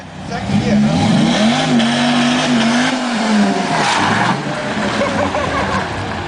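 A car accelerates hard in second gear with a slipping clutch, its engine note rising and wavering loudly up close before easing off as voices talk over it.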